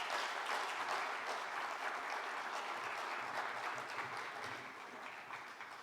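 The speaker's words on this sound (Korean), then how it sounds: "함께 박수하시겠습니다" A large audience at a church general assembly claps together in a continuous, even wash of applause that stays strong and slowly tapers off near the end.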